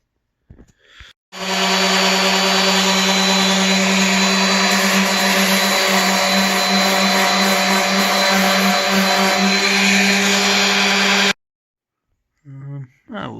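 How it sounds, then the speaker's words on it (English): A power sander grinds a rusty wheel rim down to bare metal, a loud, steady, high-pitched whirring drone lasting about ten seconds, bracketed by brief quiet moments and faint mechanical clicks at start and end. "I took the sander to it, took it right down to bare metal"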